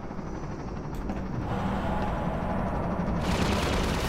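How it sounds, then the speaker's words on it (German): A helicopter in Half-Life 2 roars loud and close in a dense, continuous rotor-and-engine rumble, layered with rattling bursts that sound like gunfire. "So, ich muss diesen Hubschrauber loswerden."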